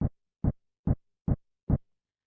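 Car sound sample pitched down into a low tone gives five short, deep thumps at an even pace, spaced about half a second apart, followed by silence.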